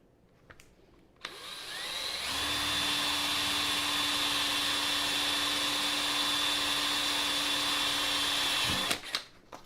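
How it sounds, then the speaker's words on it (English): A power drill turning a thread tap whirs up and runs steadily at a constant pitch for several seconds, then winds down and stops. "I just take my tap, run it in the drill."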